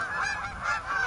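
A goose honking close by during a duck hunt, a short series of nasal honks run together over about a second, loud and clear with no talk.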